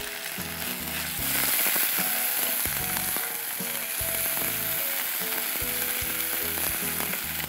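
Ginger and garlic fry in a pan for a mutton kofta curry, giving a close, steady sizzle with crackling pops and the scrape and clatter of stirring throughout.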